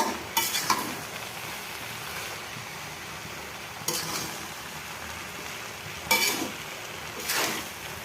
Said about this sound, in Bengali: এখন এগুলো খুব ভালোভাবে নাড়াচাড়া করে সব কিছু মিশিয়ে নিতে হবে